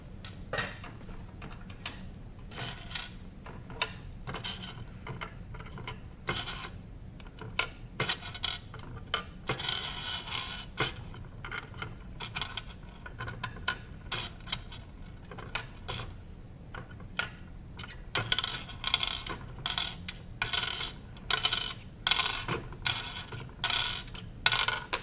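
Small pegs are placed into and pulled out of a nine-hole pegboard during a hand-dexterity assessment, making faint, irregular clicks and taps that come steadily and grow busier toward the end, with no talking.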